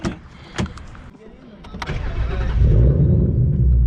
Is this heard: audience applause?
no